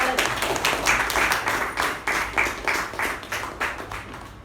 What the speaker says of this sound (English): So, Toastmasters and guests, with a huge round of applause, please help me welcome the president of our club, Toastmaster Balaji.